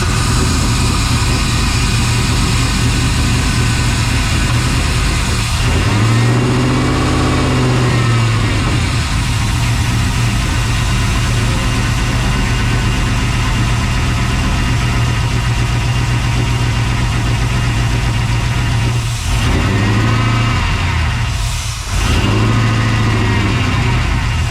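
Freshly swapped LS1 V8 in a 1992 Chevy C1500 with a T56 gearbox firing up for the first time, idling loud and rough with several sharp revs rising and falling, no talk.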